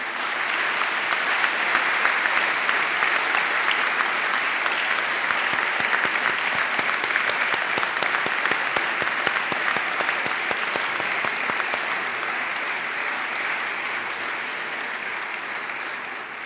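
Graduates at a university graduation ceremony turn to applaud their family and friends: a large hall fills with sustained, dense clapping that holds steady for the whole stretch and eases off only slightly near the end.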